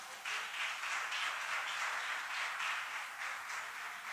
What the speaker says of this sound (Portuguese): Você pode aplaudir a Ele por isso, irmãos?